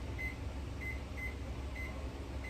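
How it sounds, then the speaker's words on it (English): Short high electronic beeps from a microwave timer being set, four or five quick tones spaced irregularly over a steady humming hum of kitchen background, no talking. "So give me 1 second to set this timer."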